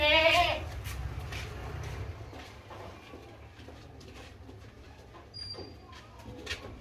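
At an Eid Qurbani livestock market, a tall, long-eared, healthy goat lets out one loud, close bleat at the start, followed by a murmur of market background noise.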